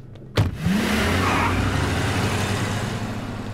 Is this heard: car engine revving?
yes